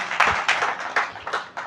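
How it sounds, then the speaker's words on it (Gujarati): Audience applause for a donor's family at a spiritual satsang gathering, a burst of clapping with uneven peaks that swells and fades across the short stretch. "એકવાર એમને તાળીથી પણ વધાવી લઈએ"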